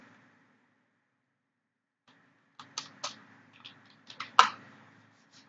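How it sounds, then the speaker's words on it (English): Keys on a computer keyboard are tapped to enter a short terminal command in Linux Ubuntu, a quick cluster of crisp, close clicks after a stretch of quiet, ending on one louder keystroke. "now I'm going to type a command that is ls"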